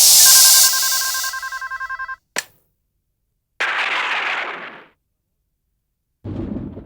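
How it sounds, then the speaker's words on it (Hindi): Telephone ringing in a Hindi horror story: a loud electronic ring with steady repeating tones at the start, then a sharp click and further bursts of noise, with no one speaking. "मुझे प्रमोद का फोन आया"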